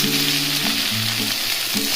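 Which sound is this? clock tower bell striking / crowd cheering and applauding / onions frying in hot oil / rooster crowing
onions frying in hot oil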